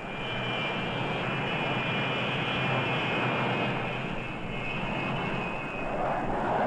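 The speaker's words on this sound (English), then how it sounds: "Bombers can be accelerated into the air from a standing start" A steady, loud jet roar with a high whine on top, sustained throughout without pause, as jet bombers launch from aircraft carrier catapults on the USS Enterprise.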